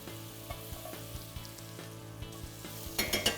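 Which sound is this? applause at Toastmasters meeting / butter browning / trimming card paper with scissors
butter browning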